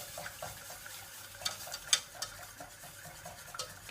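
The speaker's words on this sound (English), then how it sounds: "we shall mix that in to our fat" Flour being stirred into roast chicken fat for gravy, a soft scraping stir in a pan with a few sharp clinks of utensil against metal, close and fairly quiet.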